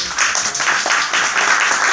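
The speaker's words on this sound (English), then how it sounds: "give her a big round of applause" A short, fairly loud round of applause from a group, brisk clapping that holds steady for a couple of seconds.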